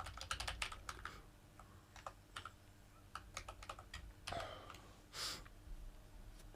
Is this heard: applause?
no